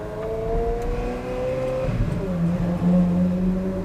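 A Ferrari 360 Modena engine heard through open windows while cruising gently, a steady mid-pitched drone with tonal harmonics that rises slightly in pitch, close and continuous without talk.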